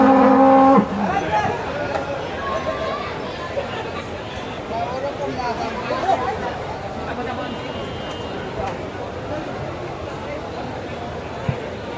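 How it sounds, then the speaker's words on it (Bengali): A large cow at a 2024 livestock exhibition fair moos loudly near the start, then the scene fills with steady crowd chatter and general fair hubbub for the rest. "কারণ এত বড় একটা গরু।"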